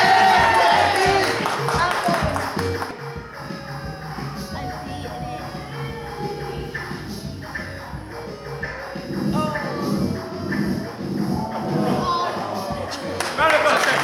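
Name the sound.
audience applause at a live gaming show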